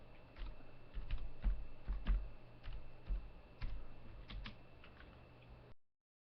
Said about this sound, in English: So if I was to type in PC Caramon here